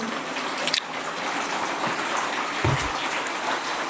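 Rain falls steadily in a forest near the Thai–Lao border, a soft, even hiss of drops on foliage with a couple of brief knocks and taps standing out.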